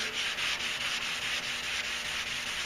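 Steady wet sanding of an epoxy coating on a pickup truck bed, a continuous rhythmic rubbing and scraping hiss with regular strokes, close and even, without speech.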